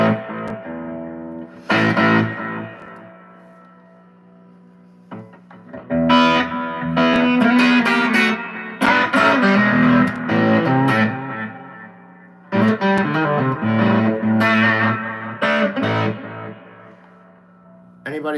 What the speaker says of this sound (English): it was probably the distortion, Pixie.